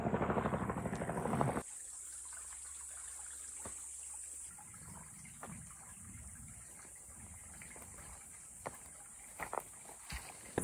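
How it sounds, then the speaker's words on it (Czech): A helicopter flies over outdoors in Bruntál, a faint, steady rotor drone. A louder burst of noise comes at the start, and small knocks and footsteps-like sounds follow near the end. "Je tam helikoptéra."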